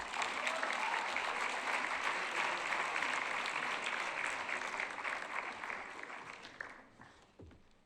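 Sustained audience applause fills a hall at the closing of a youth climate conference tied to COP25, steady and dense for several seconds before tapering off near the end.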